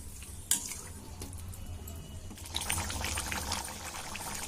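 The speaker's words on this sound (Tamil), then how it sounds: "இப்போ இது நல்லா கொதிக்கட்டும்." Potato masala curry for poori simmers in a pan on the stove, a steady bubbling and sizzling wash with a brief clink early on, close and fairly quiet, with no talking.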